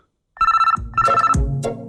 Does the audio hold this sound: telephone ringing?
yes